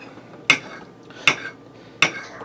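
Cutlery knocks against a plate three times at an even pace while cutting into a bacon-wrapped onion bomb filled with ground beef, each sharp clink close and distinct with quiet pauses between.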